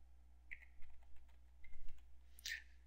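A computer keyboard tapped quietly in a handful of separate keystrokes, some in quick little clusters, with a louder click near the end over a low background hum.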